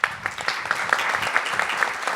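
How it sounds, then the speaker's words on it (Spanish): An audience at a seminar in Valparaíso applauds a panel, a few seconds of scattered, moderately loud clapping with a faint voice underneath. "Repetimos nuevamente el aplauso, por favor, para este tremendo panel"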